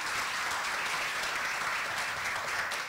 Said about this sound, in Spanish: Les pido un aplauso para darle la bienvenida a nuestros invitados.